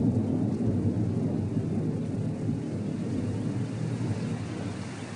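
Heavy thunderstorm with rolling thunder and pouring rain, a dense, steady low roar that stays loud and close throughout with no break.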